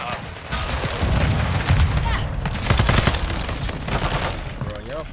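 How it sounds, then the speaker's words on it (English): Call of Duty gunfire fills the clip with dense, continuous bursts of automatic shots and booms, loud and busy throughout with game noise layered over it. "Bullets, come on, Call of Duty."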